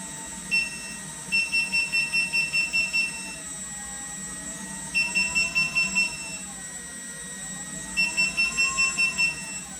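Rapid bursts of electronic beeps repeat in three clusters, about eight quick pulses each, over a low steady mechanical hum.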